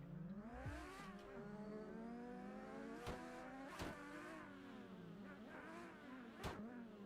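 Race cars in Assetto Corsa, engines revving up and down through gear changes, with several sharp shift spikes, heard at a steady moderate level with no talk.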